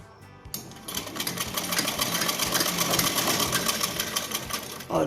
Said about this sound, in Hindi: ऐसे इसको मिला करके बिल्कुल इसके बराबर हम इसको सिलाई कर देंगे